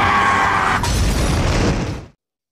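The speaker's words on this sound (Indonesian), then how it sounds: "Jenderal Yosef yang tidak sempat bereaksi akhirnya meledak bersama mobilnya" A car explodes in a loud blast with a burst of crackling debris, holding for about two seconds before cutting off abruptly.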